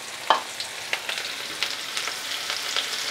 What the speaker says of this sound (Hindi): अब हम प्याज को फ्राई करेंगे प्याज के कलर चेंज